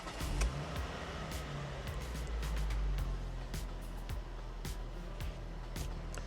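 A hot hatch car engine runs steadily after a spark plug and coil pack change, a loud low rumble close by with a slight misfire, punctuated by intermittent clicks and knocks.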